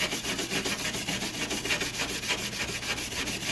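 Rusted metal being sanded down to bare steel before welding: a steady, rhythmic rasping scrub repeating in quick back-and-forth strokes, close and continuous.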